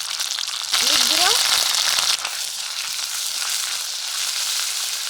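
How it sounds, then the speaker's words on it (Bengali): Cumin, fennel, ginger-garlic paste and turmeric hit hot mustard oil in a pan for a bitter gourd dish, giving a loud, continuous frying hiss that surges briefly, with a faint sliding squeak near the start. "তেল গরম হয়ে গেছে, প্রথমে দেবো জিরে, মৌরি, আদা রসুন বাটা, হলুদ গুঁড়ো"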